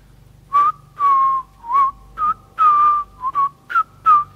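A person whistles a short tune alone, with clear, close, loud notes in quick phrases separated by brief pauses over a faint low hum.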